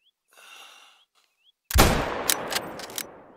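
A single sharp, loud hunting rifle shot in theHunter Call of the Wild cracks out after a soft rustle and brief quiet, then rolls into a long echoing tail with a few distant reflections.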